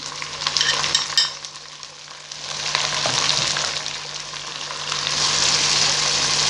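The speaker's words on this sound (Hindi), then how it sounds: "मैं इसमें ऐड करूँगी बारीक कटी हुई 2 टमाटर" Two finely chopped tomatoes hitting a hot frying pan with ginger-garlic paste for an arbi gosht curry, a loud close sizzle that swells after a brief stir and then hisses steadily.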